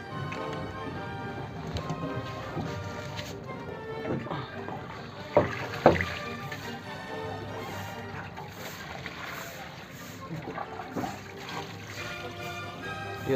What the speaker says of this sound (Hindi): साग की धुलाई चल रही है, पानी में इसको साफ किया जा रहा है।